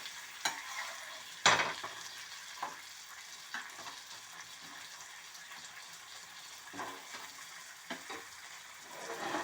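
Fish pieces frying in a pan, soft sizzling under scattered clinks and turning sounds with a couple of sharp louder knocks, fairly quiet with no talk.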